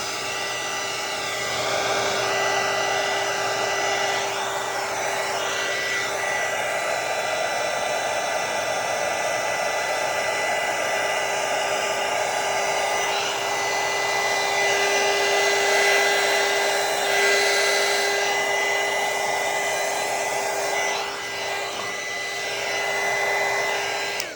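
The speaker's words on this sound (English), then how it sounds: "Then we take our heat gun and just kind of blow it" A heat gun blows on ornaments in one continuous, loud whirring hiss with a steady pitch, close to the microphone, lasting the whole stretch with no speech.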